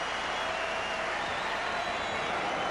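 Basketball arena crowd at the 1993 NBA Finals, Suns vs Bulls Game 3, reacting to Horace Grant in triple overtime, a dense, steady roar of many voices and scattered applause filling the space without pause.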